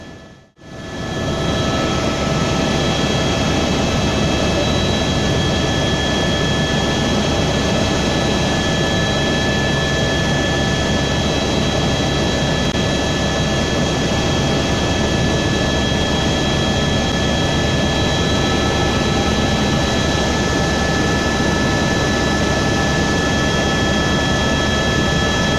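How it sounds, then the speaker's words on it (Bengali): A helicopter descends toward Hilsa on the Nepal–Tibet border during a Kailash Mansarovar journey. A loud, constant turbine drone with a steady high whine fills the cabin, rising right at the start and holding throughout. "কিছুক্ষণের মধ্যেই হেলিকপ্টার ধীরে ধীরে নিচে নামতে শুরু করলো।"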